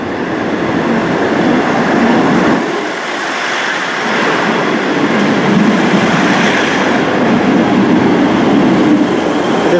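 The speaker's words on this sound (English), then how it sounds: "next train to pull out is the 1447 East Midlands train service to Liverpool Lime Street via Sheffield and Manchester Piccadilly" An East Midlands diesel passenger train pulls out of Nottingham station, a loud, steady rumble and roar of engines and rolling wheels with rail clatter that holds throughout, no voices over it.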